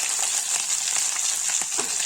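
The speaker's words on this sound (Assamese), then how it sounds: "অলপ সময় নহৰুখিনি, জলকীয়া আৰু জিৰা ধুনীয়াকৈ ভাজি ল'ম" Chopped garlic, green chilli and cumin seeds sizzle in hot oil, a steady bright crackling fry with occasional stirring scrapes, close and alone without talk.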